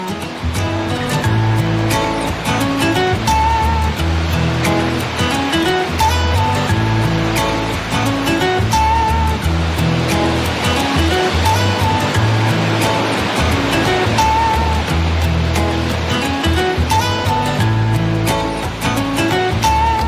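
Ocean waves and surf break along the shore at Durban in South Africa, a loud continuous roar of churning water with rolling surges, close and steady throughout with no voices.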